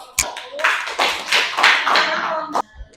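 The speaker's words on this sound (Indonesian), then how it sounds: "Tepuk tangan buat kelompok 1." A classroom of students claps for a group that has just presented, with several bursts of close, brisk hand-clapping and a single clap near the end.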